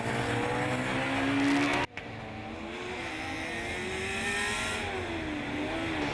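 A Formula Student race car, the golden Dortmund entry, passes during an endurance event, its engine note loud and steady with shifting pitch for several seconds, one brief break partway through, with no talk.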